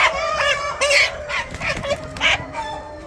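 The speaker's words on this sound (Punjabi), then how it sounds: "ਇਹ ਮੁਰਗਾ ਚੈੱਕ ਕਰ ਸਕਦੇ ਹੋ।" A rooster at a poultry farm, a desi cross bird, gives a run of repeated clucks and short calls, close and fairly loud, several bursts in steady succession with no talk over them.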